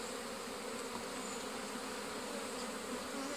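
Honeybees buzz on a hive frame in a steady, dense, moderately faint hum that holds evenly throughout, with no voices.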